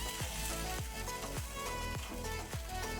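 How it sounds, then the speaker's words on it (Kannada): A spoon stirs chili, coriander and turmeric powders in a pan over a low flame for Andhra-style bhindi pulusu. A soft, quiet sizzle sounds under rhythmic scraping strokes about every half second. "ಒಮ್ಮೆ ಇದನ್ನು ಲೋ ಫ್ಲೇಮಲ್ಲೇ ಮಿಕ್ಸ್ ಮಾಡ್ಕೊಳ್ಳೋಣ."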